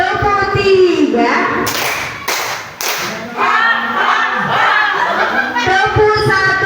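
A group of children claps in counted rhythmic bursts during a classroom clapping game, sharp slaps arriving in short sets between a teacher's talk and children's chatter and laughter.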